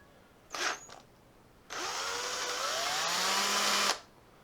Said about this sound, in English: Just drill out the powder coat.